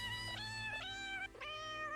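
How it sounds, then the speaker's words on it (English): A cat meows three times in quick succession, each call a clear rising-and-falling cry, with a steady low hum underneath. "A bonga cat!"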